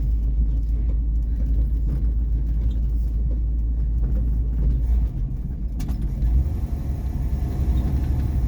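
A 1959 Ford Fairlane 500, back on the road for the first time in over a decade with loose steering and a rough ride, drives along with a steady, deep rumble heard close up from inside the car.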